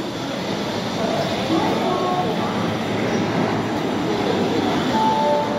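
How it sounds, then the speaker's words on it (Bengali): A train sits at or moves through a busy station near Balasore, producing a loud, constant rumbling roar with faint metallic squeals throughout, heard close by. "আমাদের সামনে একটি ট্রেন রয়েছে, এখানে দেখতেই পাচ্ছেন সামনে।"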